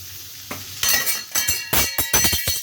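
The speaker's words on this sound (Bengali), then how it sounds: "এটা আবার একটু ভাজা হয়ে যাক।" Teasel gourd with potato and beans sizzles in a pan as a utensil scrapes and stirs in repeated bursts, a soft hiss at first and then loud, close stirring strokes with faint clinks.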